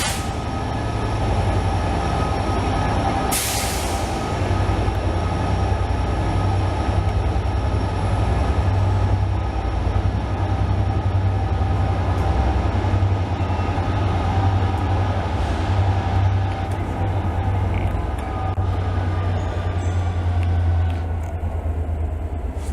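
A push-pull passenger train runs at Chester station with the locomotive pushing, giving a loud, continuous rumble of wheels and engine, a sharp burst early on and faint squeals toward the end.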